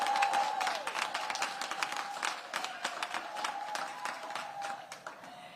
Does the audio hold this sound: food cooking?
no